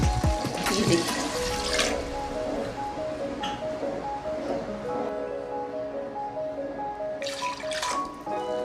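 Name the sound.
water poured into beef nihari pot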